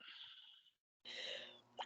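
A single person sneezes indoors, a short sharp burst after a brief inhale and pause, close and fairly quiet.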